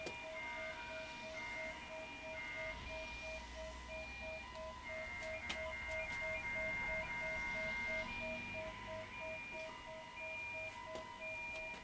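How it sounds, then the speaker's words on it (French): A faint, distant wailing alarm drifts through steady outdoor noise, its pulsing tone repeating without pause and no voices heard. "Vous entendez les sirènes?"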